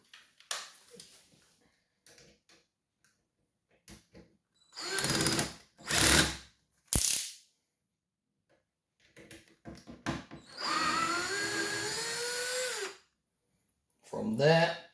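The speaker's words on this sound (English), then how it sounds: "I'm going to remove the old screws" Old cabinet door hinge screws being backed out with a cordless power drill, heard in several short whirring bursts followed by one longer sustained spin, close by, with quiet handling sounds between.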